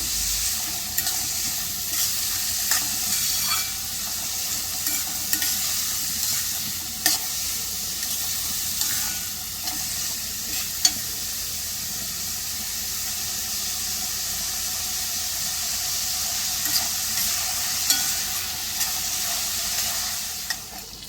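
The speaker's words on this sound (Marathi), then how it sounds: "आता हा कांदा आपल्याला परतून घ्यायचा आहे।" Sliced onion sautéing in a pan for dhaba-style masoor masala, a steady close frying sizzle with soft stirring scrapes running throughout, without talk.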